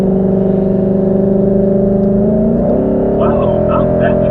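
Car flyby on a highway, with a 2020 Ford Mustang GT or EcoBoost or an Audi SQ7 at speed: a loud, steady engine drone whose pitch shifts as the car passes close, with the tone changing partway through.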